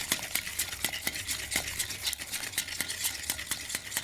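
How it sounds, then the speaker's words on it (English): A whisk works gently through a pudding custard mixture of cream and ginger jam in a bowl, giving steady rhythmic clinks and taps against the side, close and moderately loud. "A bit of gentle whisking."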